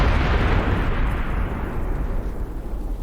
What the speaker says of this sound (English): Must have done the satchel charges